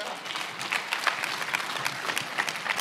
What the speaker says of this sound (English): So give God a hand clap for that.